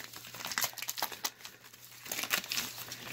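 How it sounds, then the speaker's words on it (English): Glued pieces of a woven feed bag are peeled apart, making close crinkling and tearing crackles in uneven bursts, fairly faint and without speech. "if you flip your bag over to the inside of these pieces we cut off, you can peel where they glued it together"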